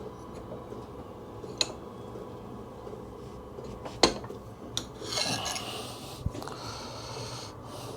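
A hand file rasps at a Suzuki GSXR motorcycle tail tidy being shaped, heard as quiet, intermittent scraping strokes with a few sharp knocks and clicks.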